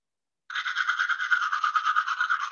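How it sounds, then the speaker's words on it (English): A toothbrush scrubs steadily, a rapid rhythmic bristly rasp that starts after a brief silence and continues close and loud without pause. "now he's brushing his teeth with it."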